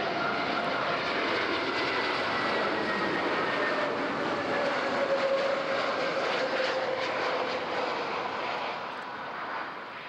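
A Lufthansa airliner on final approach to runway 14 at Zurich airport fills the air with a steady, loud jet engine roar and a whining tone, fading slightly near the end.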